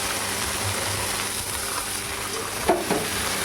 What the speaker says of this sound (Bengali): আগে থাকতে সেদ্ধ করে রাখা কচুর লতিটা আমি এই যে দিয়ে দিলাম